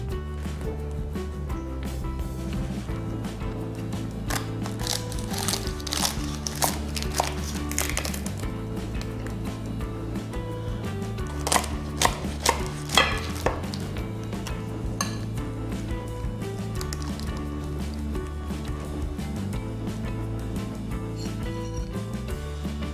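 A knife cuts through a ruffle milk pie made of crisp phyllo layers, giving scattered light crunches and taps against the plate over a steady musical backdrop, with a denser cluster of crisp cracks partway through.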